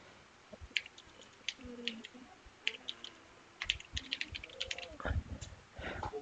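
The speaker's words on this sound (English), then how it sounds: "And then you need to type your email address," A computer keyboard is typed on at a quiet, close distance, with irregular bursts of soft key clicks while an email address is entered, and faint background murmur between keystrokes.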